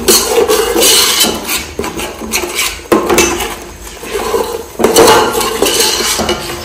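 Pots, pans and metal utensils clink and scrape in bursts while tandoori barbecue is cooked at a party, loud and close with uneven clattering strikes and short pauses.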